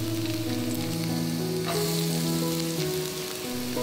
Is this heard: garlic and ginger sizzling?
yes